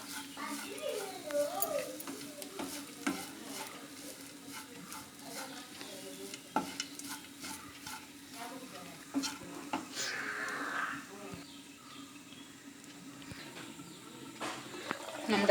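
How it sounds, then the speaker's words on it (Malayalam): Grated coconut with a pinch of turmeric roasts in a pan for a Malabar chicken curry. A soft, steady sizzle runs under repeated scraping stirs, with a voice talking faintly in the background. "നമ്മുടെ തേങ്ങ അവിടെ വറവായി കൊണ്ടിരിക്കുന്നുണ്ട്."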